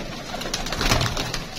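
Pigeons coo in soft, repeated low calls close by, layered over a busy outdoor background hiss with a few faint chirps.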